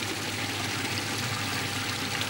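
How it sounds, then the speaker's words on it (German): A pump moves cider out of barrels with a continuous, even whooshing rush of liquid and a low humming undertone, steady throughout with no talking. "Eine Pumpe befördert den Cidre nach draußen."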